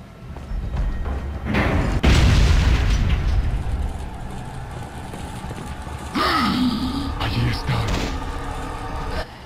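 Grenade blast in the Resident Evil 4 game: a loud, heavy boom bursts out around two seconds in and rumbles as it decays, with later in-game noises following.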